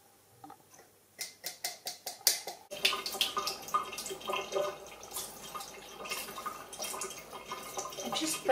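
Used coffee pod grounds being rinsed under running water, with a series of sharp drips and splashes early on that give way to a steady wet wash of running water close by.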